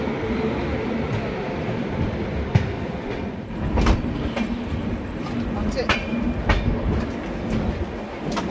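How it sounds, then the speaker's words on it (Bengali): The LHB Kolkata-Patna Garib Rath Express runs overnight with a steady, heavy rumble broken by scattered wheel clicks and clatter, while voices murmur faintly in the carriage. "this is a overnight train journey also, Kolkata Patna গরিব রাত এক্সপ্রেস"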